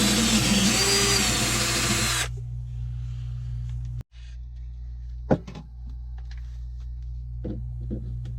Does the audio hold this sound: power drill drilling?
yes